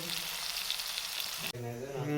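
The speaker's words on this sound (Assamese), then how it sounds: "এইফালে মাংস ভাজি আছে" A steady, close sizzle of chicken frying in a pan, broken by a brief cut before the frying continues, with a faint voice toward the end.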